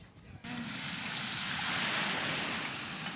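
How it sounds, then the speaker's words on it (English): Surf breaking at a beach on Lombok, Indonesia, a steady broadband wash that swells in after a brief quieter start and holds loud and continuous, with some wind noise on the microphone and no speech. "Surf seems to have dropped off quite a lot."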